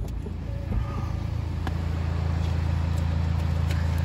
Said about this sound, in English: So that is our 2016 65 plate Mini Cooper S diesel